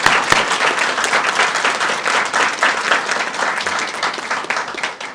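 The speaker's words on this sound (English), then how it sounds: "Both of those ladies deserve a tremendous round of applause," Audience applause at a school system meeting, a dense steady clapping from a full room that holds at an even level throughout with no talk over it.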